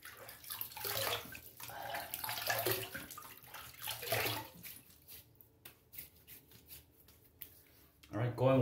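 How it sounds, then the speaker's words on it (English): Water splashes and trickles as a face is wetted at a sink before shaving, loud and close for several seconds, then quieter dripping, with a voice briefly at the end. "All right, let me wet the face and get it going."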